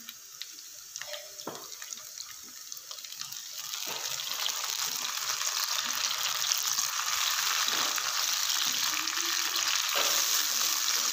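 Sliced onions, browned from white, with a chopped tomato added, frying over a medium flame in a pan for aloo palak. A steady crackling sizzle grows louder and denser partway through, with a few spoon scrapes early on.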